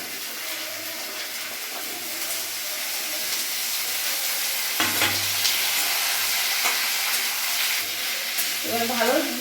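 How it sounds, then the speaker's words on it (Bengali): Curry leaves and vegetables frying in a pan for sambar, a dense steady hiss and sizzle close by, with a few clattering stirs near the end. "এবার আমি কারি পাতাটা ফোড়ন দিয়ে দেবো। কারি পাতাটা একটু ভাজা হবে।"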